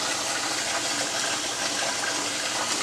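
Cold water gushes steadily from a kitchen tap into a pot, a continuous broadband rush with no pauses, close and fairly loud, with no voices.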